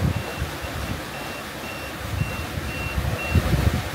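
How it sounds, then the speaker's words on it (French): A sailboat's AIS alarm: a thin electronic beep repeats at a steady pace, fairly faint, over wind and rushing water noise. "je pense que c'est une alarme AIS."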